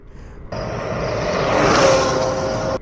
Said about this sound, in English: this thing peels out as soon as you hit that throttle